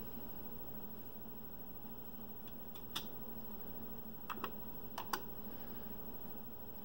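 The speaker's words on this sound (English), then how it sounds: "Remember to hit return after typing your answer." A handful of sparse, sharp keystrokes click on a Commodore 64 keyboard over a steady hiss, spaced irregularly rather than as continuous typing.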